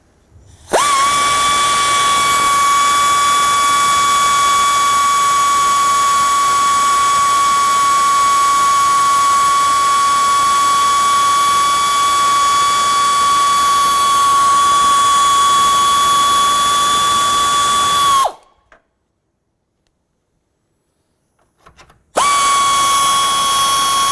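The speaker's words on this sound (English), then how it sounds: "we're going to go ahead and loosen the J-hooks for the battery so we can go ahead and remove the battery" A powered ratchet loosens the battery J-hooks on a 2006-2011 Honda Civic, a loud steady mechanical whine running for many seconds, cutting out briefly, then starting again, close up and without talking.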